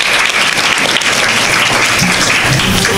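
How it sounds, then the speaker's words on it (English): An audience at a Carnatic music concert applauds the composers, a loud, dense and continuous roar of clapping that fills the whole stretch, with no talk over it. "So please give a big applause to the composers, all the composers of the world of Carnatic music."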